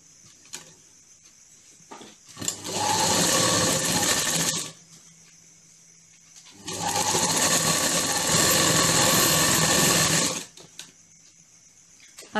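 Sewing machine stitching palazzo pants, running in two steady bursts of about two and four seconds with quiet pauses between, close and fairly loud.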